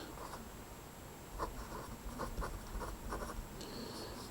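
A pen scratching across paper while sketching a graph, soft irregular strokes close to the microphone, fairly faint against a low background hiss, with no talking.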